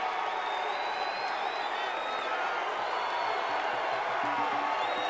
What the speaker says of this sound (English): he comes out, he gets a cool entrance, crowd goes crazy.